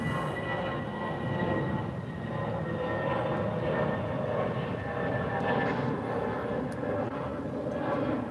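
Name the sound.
aircraft at airport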